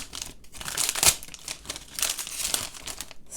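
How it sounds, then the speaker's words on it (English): Paper stationery packaging crinkles and rustles while being opened, with close, uneven bursts of crackling and a sharp peak near the start. "Sorry if you don't like opening noises."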